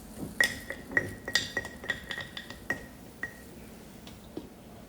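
Cabbage for sauerkraut being packed down layer by layer into a glass jar, a run of bright clinks and taps against the glass, fairly quiet and irregular, with no talking.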